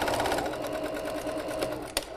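A sewing machine stitching a seam runs in a steady, rapid whir of needle strokes close by, ending with a couple of sharper clicks.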